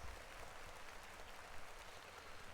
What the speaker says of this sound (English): Clap it up for new music.